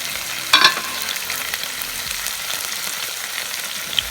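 Pepper chicken fries on a flat iron tawa with a steady, even sizzle, a brief metallic clatter rising near the start before the hiss carries on alone.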